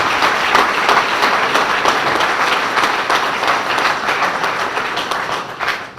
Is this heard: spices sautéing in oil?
no